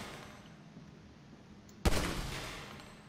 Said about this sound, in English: every time I shoot the gun, it's just going to go up